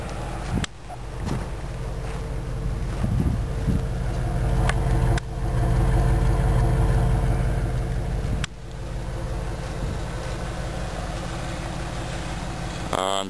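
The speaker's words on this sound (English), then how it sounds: "See, it's idling better now." A 1994 Cadillac DeVille engine idles steadily and fairly loud, a low continuous rumble with a few brief clunks and shifts in level.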